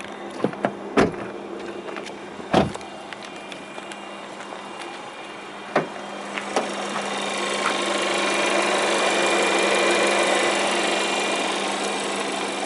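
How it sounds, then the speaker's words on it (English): VW Polo engine idling with the bonnet open, a steady low hum that rises slightly toward the end, with a few sharp clicks and knocks early on. "I'll keep the engine running."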